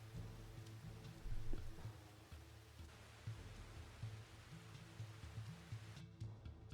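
Steady rain falls in an anime scene over a ruined city, a soft even hiss that stays fairly quiet and continuous, mixed with low background rumble and brief swells.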